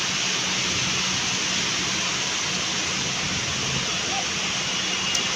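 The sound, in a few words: heavy rain with hail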